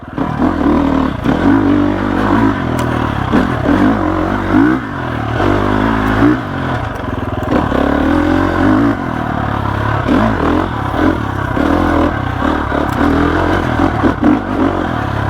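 A 2021 GASGAS EX 350F four-stroke off-road motorcycle ridden hard, its engine revving and surging continuously with throttle changes, close and loud, with clattering from the bike and terrain throughout and no talk.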